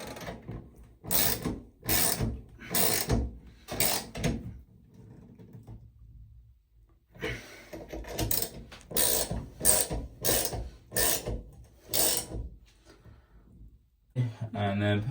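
Bath tap cartridge valves being tightened with a spanner, giving repeated ratcheting clicks in bursts of several strokes, close and fairly loud, with brief pauses between sets.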